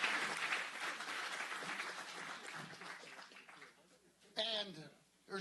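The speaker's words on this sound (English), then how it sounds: "I'd like to give this young man a round of applause here as well." Applause breaks out at a county supervisors' meeting, a dense crowd clapping that fades over several seconds, then a voice speaks in the room.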